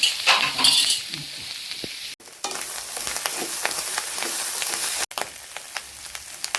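Clam meat frying in oil, a dense steady sizzle and crackle with stirring scrapes, close and fairly loud, briefly cut off twice before resuming.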